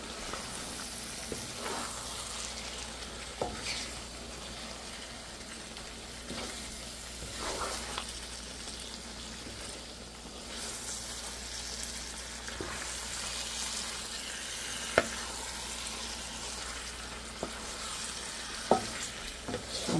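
Spice masala with tomato sauce sizzling gently in a pan for a wedding-style roast, a faint continuous crackle and bubbling with occasional soft spoon taps and scrapes.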